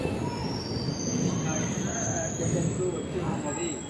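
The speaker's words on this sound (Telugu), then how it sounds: "రెండు గంటల 55 నిమిషాలకు కాచిగూడ నుంచి కృష్ణా రైల్వే స్టేషన్కు వచ్చి ఉన్నది" A train from Kacheguda rumbles and screeches along the rails, a steady metallic squeal over low rolling noise, as if pulling slowly into Krishna railway station.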